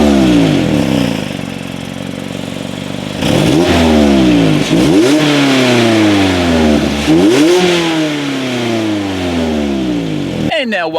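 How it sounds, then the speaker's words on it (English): A 2016 Mazda MX-5 Miata engine revs loudly several times through a dual exhaust, pitch climbing and falling back with each blip of the throttle, close and with no talking. "So as always, here is that exhaust clip."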